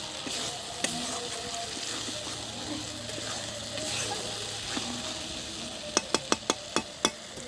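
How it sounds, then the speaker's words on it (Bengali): Spice paste sautéing and being stirred in a little oil in a pan: a steady, close sizzle with soft scraping throughout, then a quick run of sharp metallic clinks toward the end. "তেল দিয়ে মশলাটা একটু কষিয়ে নিচ্ছি।"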